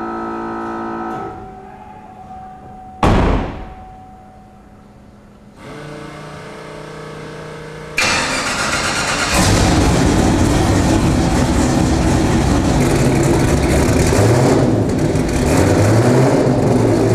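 A twin-turbocharged 1500 HP fifth-gen Camaro with a 388 engine starts with scattered tones and a quick sweep, then erupts into a loud, sustained roar that fills the rest of the stretch, with no talking.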